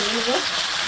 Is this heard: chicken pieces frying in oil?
yes